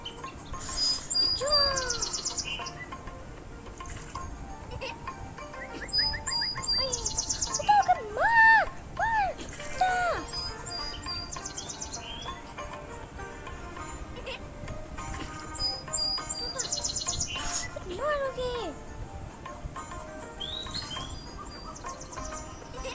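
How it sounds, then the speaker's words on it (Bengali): A parrot gives sharp, rising and falling squawks and chirps in scattered bursts, fairly faint, over a constant high insect-like buzz in the background. "আমাদের তোতা সেই তোতা"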